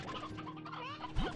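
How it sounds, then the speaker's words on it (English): Roosters cluck in the video game Slime Rancher 2, a busy cluster of fowl calls over a dense game soundscape, with a rising synthetic whoosh near the end. "A bunch of roosters that we just don't need."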